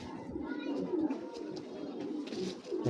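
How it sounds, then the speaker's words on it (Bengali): A large female Python breed pigeon with a big head coos softly and repeatedly in a low, rolling rhythm, close by and faint. "পাইথন কবুতর জানেনই আপনারা যে মাথাগুলো বড় এবং কবুতরগুলোর সাইজও অনেক বড় হয়ে থাকে"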